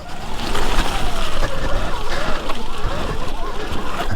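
A Surron Light Bee X electric dirt bike on upgraded tyres churns through sloppy mud, with wet sloshing and splattering over a whirring motor, close and fairly loud throughout.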